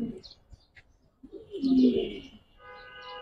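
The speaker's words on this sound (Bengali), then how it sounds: "এটা নর কবুতর ভাই" Male Giribaz pigeon cooing softly, a low murmuring coo that swells in the middle and then fades, with faint chirps and background noise around it.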